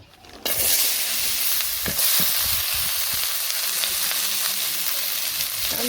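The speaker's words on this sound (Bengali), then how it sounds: "আলু ভাজুমো আলু দিয়ে দিই" Potatoes go into hot oil in a village kitchen, and a loud, steady sizzle bursts in after a brief quieter moment, then crackles on without pause. No voices are heard.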